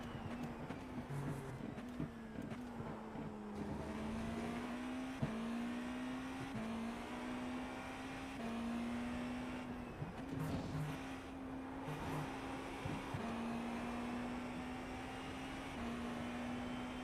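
Race car engines in the iRacing simulator at Virginia International Raceway drone steadily at moderate level, the pitch rising and dipping through gear changes and corners over a continuous bed of road and tyre noise.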